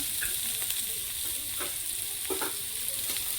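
Chopped capsicum sizzling and frying in a pan of suji upma while being stirred, a steady close hiss with a few scraping stir strokes and no talk.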